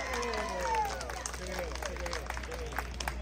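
An outdoor park audience claps steadily to welcome a Taiwanese-language singer on stage, with scattered applause running throughout under a host's amplified voice.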